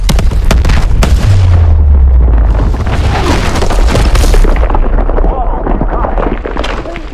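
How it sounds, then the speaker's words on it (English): Heavy booms and blasts in the Call of Duty: Advanced Warfare campaign mission Meltdown, a loud continuous barrage with rolling low rumbles and sharp bursts over shouted voices and combat clutter. "we can't get near those surface explosions"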